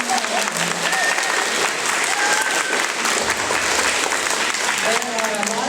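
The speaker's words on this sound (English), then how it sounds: "please clap for that because it's been a long time" A theater audience applauds the first performance on a stage, the clapping dense, loud and sustained across the whole stretch as a crowd of many hands.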